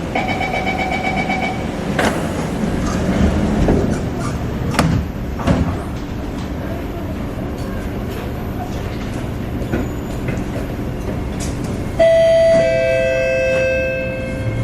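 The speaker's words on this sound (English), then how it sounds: "Doors are closing." Inside a Singapore MRT train carriage near Tanah Merah, sliding doors shut with a few knocks and thumps over a steady rolling hum, followed by a rising electronic chime.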